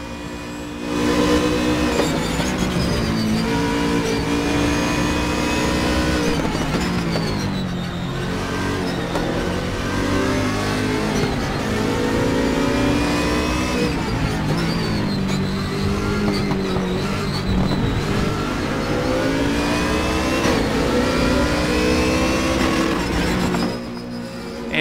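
A BMW Z4 race car in the Raceroom racing game laps the Nürburgring, its engine revving hard and loud throughout, pitch rising and falling through gear changes and corners.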